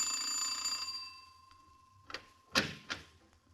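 A doorbell in an old-time radio crime drama rings with a bright, metallic tone that decays away, followed by a few sharp knocks or door clunks close by.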